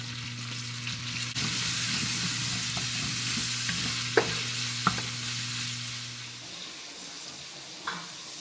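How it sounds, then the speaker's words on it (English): Bacon, onions and garlic fry in a pan with a steady sizzle, stirred now and then, with a few sharp utensil clinks standing out near the end. "right now it's bacon cooking"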